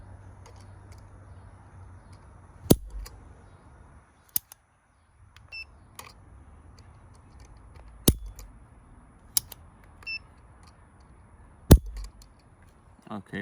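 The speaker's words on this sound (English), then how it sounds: "We're gonna have to dry fire it. We're gonna do an average of 3 trigger pulls." Dry-fire trigger pulls on an unloaded Bond Arms Roughneck .45 ACP derringer: a handful of sharp, isolated metallic clicks spaced several seconds apart, close to the microphone, with near-silence between them.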